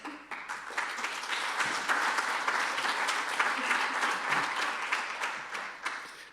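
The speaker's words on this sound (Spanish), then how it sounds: "Gracias, Camilo, por pedir el aplauso, porque ahora a todos nos aplauden" Seminar audience applauding at a university architecture event, a dense, sustained burst of clapping for about six seconds that swells quickly and tapers off near the end, filling the room.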